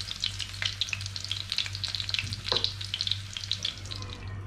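A chicken chop fries in hot oil, crackling and popping with dense, irregular sizzles over a steady low background hum, fairly close and without speech.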